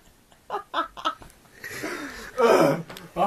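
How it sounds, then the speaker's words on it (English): A person with a bad cough gives a few short, harsh coughs in quick succession, close to the microphone, followed by a longer rasping hack. "I have a very bad cough."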